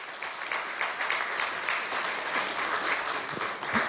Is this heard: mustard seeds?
no